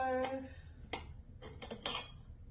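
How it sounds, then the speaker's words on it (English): A knife slicing through a piece of carrot cake and tapping the plate, giving a few soft crisp strokes and clinks close by, quiet and without talk. "Okay, so I have a knife here and I'll just cut that piece of cake like so"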